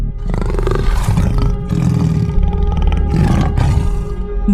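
A tiger in an animated story roars loudly in several long, rough bursts close up, with short gaps between them, over a steady low background and no talk.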